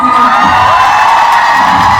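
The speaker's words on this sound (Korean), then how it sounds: "같이 노력해준 우리 댄서분들께 박수 부탁드리겠습니다" At a 2024–25 world tour finale concert, a large audience roars with loud, continuous cheering and shrill whoops for the dancers, a dense wall of crowd noise throughout.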